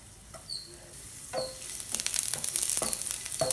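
Garlic and ginger sizzle and crackle in hot oil in a pan, steady and close, with a few light scraping stirs and a rising hiss toward the end.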